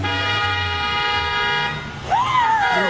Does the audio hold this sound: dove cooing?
no